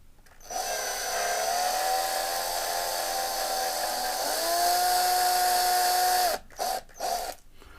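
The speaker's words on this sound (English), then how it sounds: "we'll start drilling it out" A steady high-pitched power drill whines continuously for several seconds, drilling out a Matchbox toy car wheel rivet, dips briefly in pitch, then cuts off and restarts in a few short bursts.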